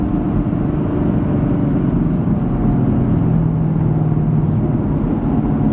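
A 2016 Chevrolet Camaro SS 2SS V8 drives in track mode, a steady low engine drone and road rumble heard from inside the cabin with no talking.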